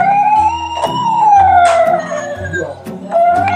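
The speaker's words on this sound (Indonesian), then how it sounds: "Mobil ambulan." A toy ambulance siren wails in a loud, continuous electronic tone that sweeps up and down, with a low pulsing buzz underneath, alone with no voices.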